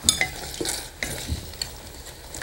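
Fried mushrooms are stirred through sauce in a hot pan, giving soft scraping and spoon strokes over a steady sizzle, close and alone with no talking.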